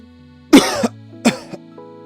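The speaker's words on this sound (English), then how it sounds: "I tried to mute to cough" Two loud, close coughs come a moment apart, each a harsh burst with a short throaty tail, over a faint steady electronic hum indoors.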